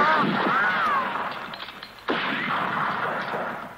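A single sharp gunshot cracks near the middle of a comedy sketch, after the warbling bird-call imitations that come before it.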